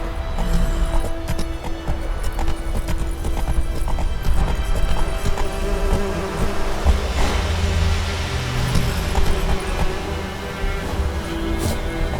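Hooves of Roach, the horse in The Witcher 3: Wild Hunt, clip-clop in a brisk, steady rhythm close up, with an occasional snort and faint background game ambience.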